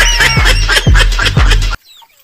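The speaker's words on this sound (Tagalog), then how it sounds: "Alagang manok. Manok na alaga." A pet chicken clucks loudly and close by in a quick run of about four or five harsh, rhythmic clucks, then cuts off into near silence.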